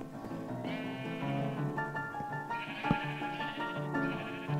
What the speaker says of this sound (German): Nur höre ich dann die Schafe auch die ganze Zeit extrem laut und rechtzeitig.